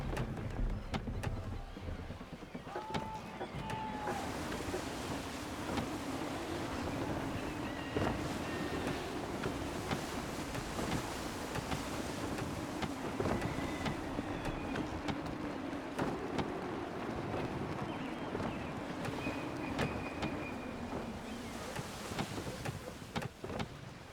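A sailing ship in a video game pushing through gusty wind, heard as a loud, steady rush of wind and water with a low droning rumble beneath, continuous for the whole stretch with no talking.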